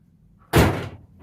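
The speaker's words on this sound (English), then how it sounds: "Give us a review of the door opening and closing." A car door on a car under restoration, with the door and closing plate newly fitted, is swung shut in one loud, close, solid slam that fades quickly, with no talking.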